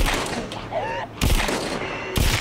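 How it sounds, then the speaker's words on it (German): Gunfire in The Walking Dead: Saints & Sinners, a zombie survival video game, with two sharp broadband blasts about a second apart, the first fairly loud and the second hitting near the end, over a busy game soundscape. "Was war das denn für ein Schuss?"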